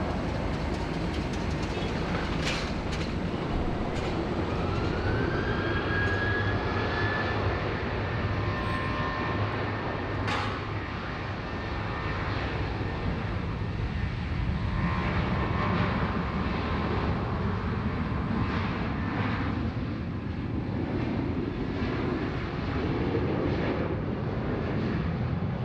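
Qantas flight 441 airliner departing Sydney Airport for Melbourne, a steady broadband roar that holds loud for the whole stretch with no voices over it.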